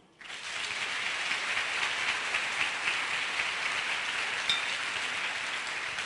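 A church congregation at a sermon applauds together, a dense, even roar of many hands that swells in quickly and holds steady, heard from a distance in a large hall without voices.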